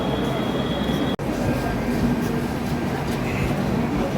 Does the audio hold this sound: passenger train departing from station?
yes